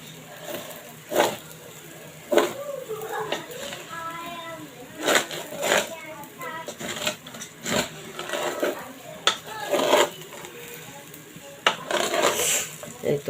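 Raisins frying in a pot while cooking beef tehari, with repeated clanks and scrapes of a spoon against the pot at irregular intervals, plus faint voices in the background.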